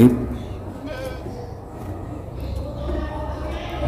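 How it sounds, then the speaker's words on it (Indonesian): Goats at a fattening farm being prepared for Eid al-Adha, bleating eagerly while they wait to be fed, several calls rising over a steady barn murmur as someone talks nearby. "Nah ini kambing-kambingnya sudah menunggu antusias sekali ini"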